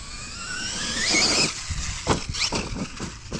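A hobby-grade RC truck whines at high pitch as it speeds up, then lands with several sharp knocks and clatters, all close by and loud with no talking.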